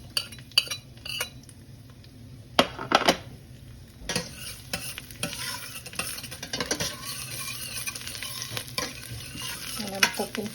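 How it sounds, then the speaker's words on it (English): Garlic sautés in olive oil in a pot, with a soft continuous sizzle broken by scraping stirs and the clink of a utensil against the metal, close and fairly quiet with no talking. "I'm adding some olive oil to this pot. Of which I'm gonna saute this garlic."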